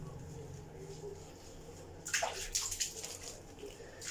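Water splashes and sloshes as a kitten is bathed in a tub, a quiet first half giving way to louder, irregular splashing in the last two seconds.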